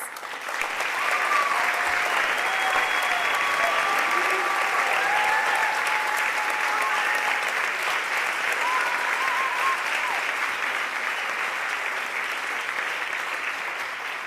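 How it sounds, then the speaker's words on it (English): Audience applause for seniors standing at a high school senior awards night, a sustained, even round of clapping from a large crowd with faint voices mixed in. "we ask all seniors who have received a department award to stand and be recognized with one more round of applause."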